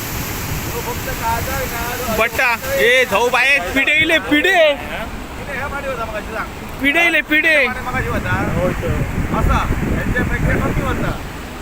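Rough sea waves surge up a beach at high tide with a continuous heavy roar and rumble, while several people nearby talk and call out over it.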